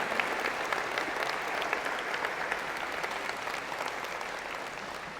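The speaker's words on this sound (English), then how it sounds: "Please give them a big round of applause." A convocation audience for the College of Engineering and Computer Science claps for the dean's office staff, a dense, steady round of applause holding at full strength throughout.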